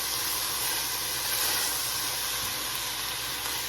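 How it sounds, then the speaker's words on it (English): Beef sears in a hot pan for a Chinese dinner, giving a steady, dense hiss that holds even and unbroken from start to finish, close and with no voices. "Here is our meat that's been searing"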